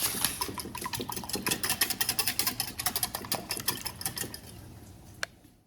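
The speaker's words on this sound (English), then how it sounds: "And I'm just gonna whisk it." A whisk beats eggs in a bowl, making rapid, rhythmic clicking and tapping strokes up close that speed up and then fade out, over a low background hum.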